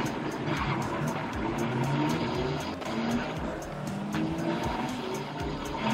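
A Volvo race car in Forza Horizon 3 drives on with a steady engine drone, shifting tones and repeated tire squeals and skids, loud and continuous with no talk.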